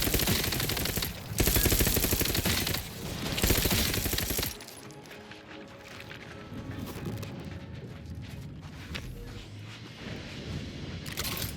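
Rapid automatic gunfire rattles loud and close in The Outer Worlds 2, a dense sustained burst that cuts off suddenly, leaving quieter clattering, scattered shots and ambient noise behind, with no talking.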